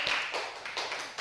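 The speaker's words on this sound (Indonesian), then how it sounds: "Tepuk tangan." A classroom of students gives a short burst of applause, quick light claps lasting about a second, close and fairly loud, with no talking over it.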